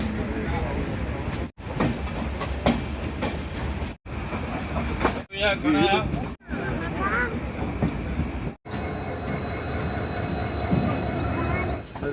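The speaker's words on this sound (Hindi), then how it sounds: "अपनी ट्रेन रफ्तार में अब आ चुकी है" A Kota–Patna Express passenger train pulling out of Ayodhya Junction and gathering speed, a steady loud rumble with wheel squeal and rail clatter heard from on board, while someone talks over it throughout.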